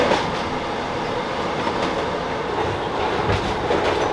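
A moving passenger train, heard from inside a carriage, gives a steady, loud rumble with faint clattering of wheels on the rails throughout.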